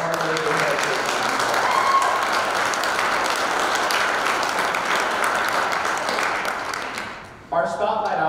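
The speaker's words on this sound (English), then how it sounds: "Let's give them a big round of applause for all of their hard work and dedication." Sustained, dense applause from a large audience at a school performing arts showcase fills the space steadily for several seconds, then fades and is cut off near the end.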